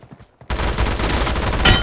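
Gunfire in the BGMI mobile battle royale game: after a quiet half second with faint sounds, a dense, loud burst of rapid automatic shots runs continuously to the end, with no talk.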